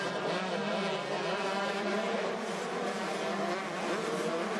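EMX 125 motocross bikes race at the 2019 MXGP of France, their engines a continuous loud high-pitched buzzing whine that holds steady from start to finish.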